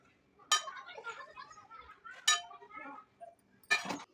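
Hardened jaggery syrup for peanut chikki dropped onto a plate, giving three sharp, close clinks spaced apart, with quiet kitchen handling sounds between them.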